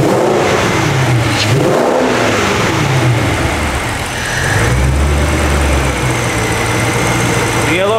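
Car engine with a newly rebuilt motor and new exhaust revving hard, a loud continuous throaty roar rising and falling over eight seconds, with a voice faintly underneath.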